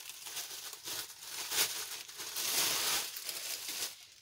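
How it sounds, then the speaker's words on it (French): A cross-stitch bag is unwrapped from its plastic pouch, with close, crackly crinkling in uneven bursts that peaks in a longer rustle partway through. "Je vais le déballer parce qu'il est encore en pochette"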